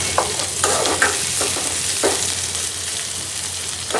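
Onion fries in a small amount of oil in a pan, giving a close, steady sizzle with a few light scrapes and taps of a utensil at irregular moments, and no voices.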